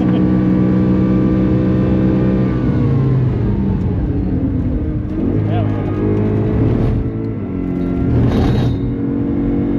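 Several Lamborghini Super Trofeo race car engines roar and rev loudly at the Nürburgring, rising and falling in pitch as cars pass, with people talking over the noise.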